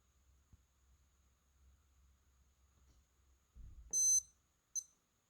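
A Rotary Chronograph G3031 wristwatch timer gives two short, high electronic beeps, the second briefer than the first, faint against near silence.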